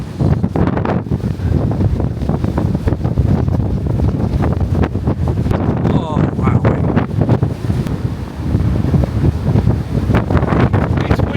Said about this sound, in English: It's very breezy, but it's a very enjoyable tour.